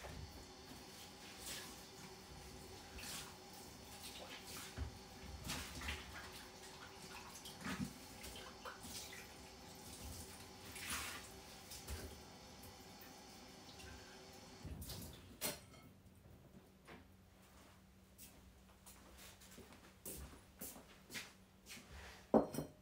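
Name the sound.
rinsing a pitcher with water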